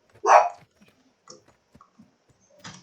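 A single loud dog bark from the Call of Duty video game bursts out near the start, followed by faint scattered clicks and a softer bark-like burst at the end.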